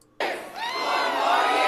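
A crowd at a political rally roars and cheers, starting abruptly and holding as a loud, sustained wash of many voices without a break.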